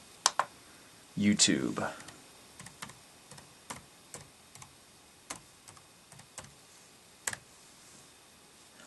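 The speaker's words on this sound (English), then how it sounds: "as you hear the clicking of the touchpad." Touchpad clicks on an ASUS Transformer Book T100 laptop, a dozen sharp faint taps spaced irregularly, with a brief spoken word early on.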